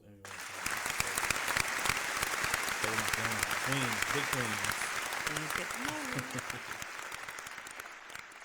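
Sustained applause from a crowd, loud and steady throughout, with a voice briefly speaking over it partway through.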